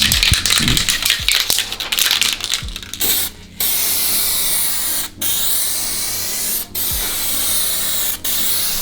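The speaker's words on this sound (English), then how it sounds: "Get it shook up, find my mask, and you want to lay this down in a fine mist" Aerosol can of adhesion promoter spraying a fine mist onto a Mk2 Golf GTI headliner, a loud continuous hiss broken by a few brief pauses, close to the can, with a rattle of the can at the start.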